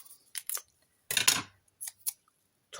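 Scissors cutting double-sided foam tape for a scrapbooking card, a few short crisp snips in quick clusters, close and clear, separated by brief silences.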